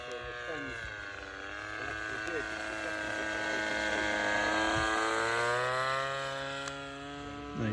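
Glow engine on a 1/8 scale Hawker Tempest model plane drones steadily at close range, its pitch wavering slightly as it runs for several seconds, on a hot day at a model flying field.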